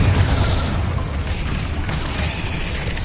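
A Confringo explosive spell blast in Hogwarts Legacy, a dense, sustained roaring burst with heavy low rumble that stays loud throughout without any talk.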